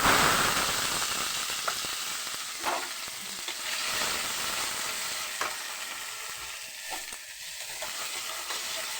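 Tomatoes fry in a pan of oil with bay leaf, dried chilli and five-spice for tomato chutney, giving a steady close sizzle with faint stirring scrapes throughout.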